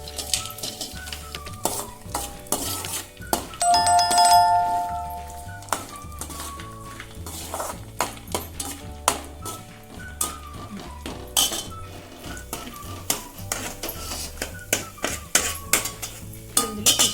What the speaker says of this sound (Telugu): ఇందులో టూ టేబుల్ స్పూన్స్ నెయ్యి వేసుకోవాలి ముందుగా ఇందులో బాదం పిస్తా వేసి ఫ్రై చేసుకోవాలి